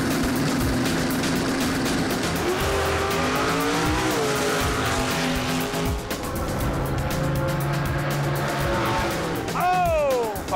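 Race cars at Infineon Raceway in California roar past with rising and falling engine tones and a squeal of tires near the end, loud and close, while a crowd and voices talk underneath.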